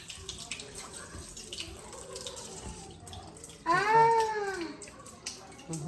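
A kitchen tap runs in a steady, low rush and then goes quiet, and a cat lets out a clear meow close by near the end.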